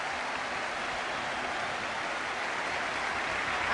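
A football crowd at Tottenham rises and applauds at the final whistle, a dense, steady wash of clapping and cheering that holds at an even level throughout, with no voices standing out.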